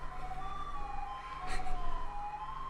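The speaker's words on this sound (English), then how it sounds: "someone tried to make a remix of a police siren" Game music from The Magic School Bus Explores the Solar System: a wavering, siren-like electronic tone that rises and falls like a police siren, with a brief burst of brighter sound midway, played alone at moderate volume.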